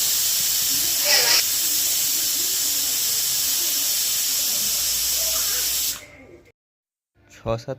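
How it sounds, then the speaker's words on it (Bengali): A pressure cooker holding mutton soup vents a loud, steady jet of hissing steam for several seconds, then cuts off abruptly, followed by a brief quiet and a few clattering knocks. "প্রেসার কুকারের মুখটা আঁটার পর 6-7টা সিটি দিয়ে দেব"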